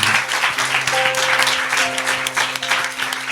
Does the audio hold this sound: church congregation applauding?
yes